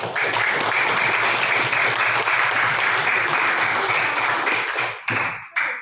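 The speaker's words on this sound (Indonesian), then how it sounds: "Tepuk tangan." Children clapping together in a classroom after a lesson, a steady dense burst of applause that carries on for about five seconds before tapering off into a few scattered claps.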